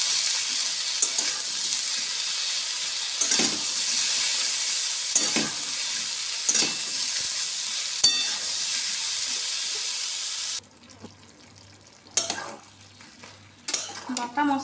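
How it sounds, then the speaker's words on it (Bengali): Ridge gourd frying with ground cumin and coriander paste and green chilli hisses and sizzles steadily in a pan, with a few stirring scrapes, before the sizzle drops to a quieter bubbling hiss with occasional clatters. "জিরে ধনে বাটা দিয়ে ঝিঙে খুব ভালো করে কষিয়ে নিলাম।"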